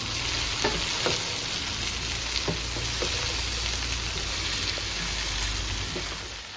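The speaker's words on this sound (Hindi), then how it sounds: "ये इसमें मैं भिंडी डाल रही हूँ। मैं इसको प्याज के साथ जो ऊपर नीचे करूँगी।" Okra and onions fry in hot oil with a steady, loud sizzle, while occasional spoon scrapes against the pan mark the stirring and nobody speaks.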